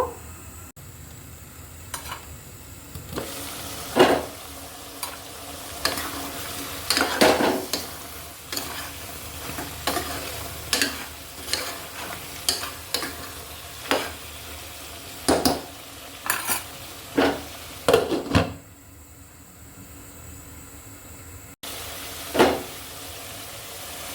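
Eggplant with coriander leaves being sautéed in a pan, a low sizzle under repeated clanking and scraping of a metal spatula against the pan in uneven bursts, close and fairly loud, with no speech.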